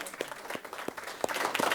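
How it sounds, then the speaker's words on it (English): Applause for Phil Bartlett at a town council meeting, a modest crowd clapping with several distinct louder claps standing out over a steady, moderately quiet patter. "big round of applause for Phil"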